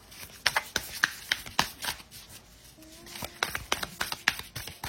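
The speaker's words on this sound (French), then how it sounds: "On va tirer 2 autres cartes." Tarot cards are shuffled and drawn by hand, giving a run of crisp, rapid flicks and riffles with soft rubbing between them, close and fairly quiet, with no talking.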